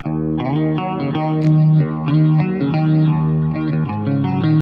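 A clean electric guitar with a swirling, phaser-like effect, played through a BOSS Katana MK2 amp, plays a short chord passage. The notes ring clearly and fairly loud, with no voices.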